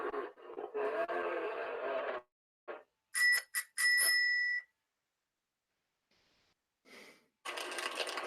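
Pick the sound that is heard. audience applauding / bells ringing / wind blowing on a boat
bells ringing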